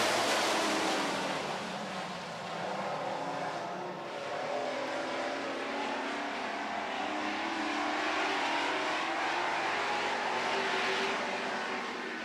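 Super Trucks roaring off the green flag at the start of a racing heat, a dense continuous wash of engine noise heard from a distance, steady and broadband with no clear individual passes.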